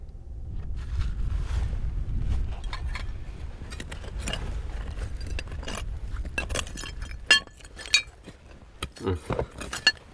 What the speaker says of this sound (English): Bunch of broken beers.